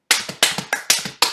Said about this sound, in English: This is a super easy clap, you ready?